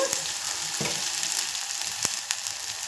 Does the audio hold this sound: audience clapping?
no